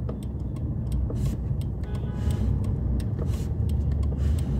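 A car's turn indicator ticks at a steady, regular rhythm, close and clear over a low idling engine hum, with no talking.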